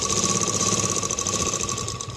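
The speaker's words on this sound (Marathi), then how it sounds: "जिथे मार्किंग केले तिथे शिलाई मारून घ्यायची" A sewing machine stitching piping onto a blouse neckline runs steadily and continuously at close range, a constant mechanical whir with a fast repetitive needle rhythm and no talking.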